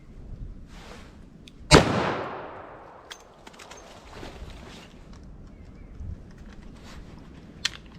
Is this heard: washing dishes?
no